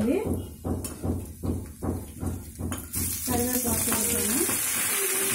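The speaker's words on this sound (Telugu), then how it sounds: "పోపు వేలుతుంది" Tempering spices crackle and sizzle loudly in hot oil for a pepper and coriander charu, with rhythmic stirring pulses, a brightening hiss after the third second and a voice talking faintly beneath.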